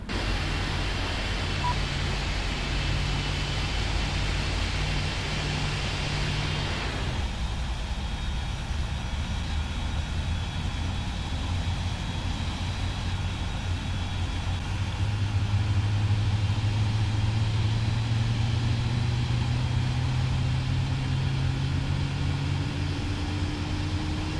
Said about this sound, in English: the second engine is spooling